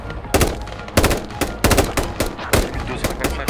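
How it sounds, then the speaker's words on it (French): Gunfire in the military shooter game Squad, set in a French Foreign Legion ambush, with sharp, loud bursts cracking about every half second in a rapid, uneven rhythm. "on se prend des coups de feu"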